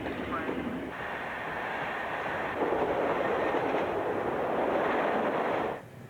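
A passenger train on the line out of Hastings runs along the rails with a steady, muffled rolling roar that grows louder partway through and then drops off abruptly.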